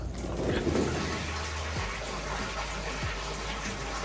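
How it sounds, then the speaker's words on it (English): Shower water running steadily over a dirty dog being washed, a continuous broadband hiss and splash with a few faint thumps, no voices heard. "So now I'm gonna have to give her a shower."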